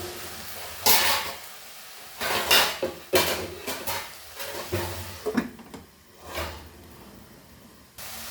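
Metal pot and lid clattering on a stovetop while cooking Goan cabbage stir fry, several sharp clanks and scrapes at uneven intervals over a faint background hiss, close and fairly loud.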